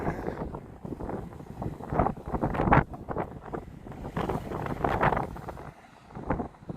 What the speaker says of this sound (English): The wind is coming here.